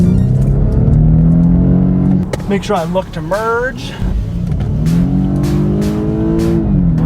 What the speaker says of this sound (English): I heard a lot of engine noise